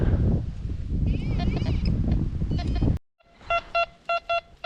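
Rustling, scraping noise gives way to a run of five repeated electronic beeps, steady and bright, from a nearby metal detector near a dried-up river.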